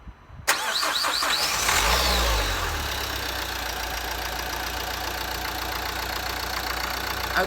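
A diesel car engine, with freshly replaced glow plugs, cranks briefly and catches almost at once, then settles into a loud, steady idle close by with no voices.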